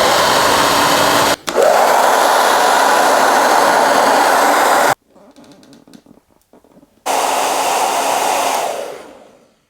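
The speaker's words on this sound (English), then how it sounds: "The first step with any blow dryer is you just got to make sure it works." Handheld blow dryer running at close range, a loud steady roaring whoosh that drops briefly to a low rattle when switched off, then starts up again and fades out.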